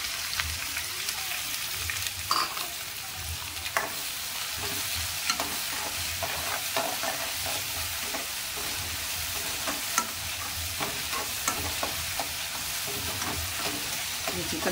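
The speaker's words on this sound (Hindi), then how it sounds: "और अब इसके अंदर हम ऐड करेंगे अदरक लहसुन का पेस्ट जो हमने बनाए थे" Ginger garlic paste stirred and fried in a pan while cooking chicken chatpata, a steady close sizzle broken by scraping and clinking strokes of the spoon, no talking.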